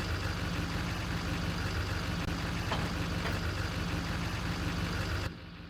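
A pickup truck's engine drones steadily while it tows a piece of farm equipment bought at auction. The continuous, even roar of driving and road noise stops abruptly near the end.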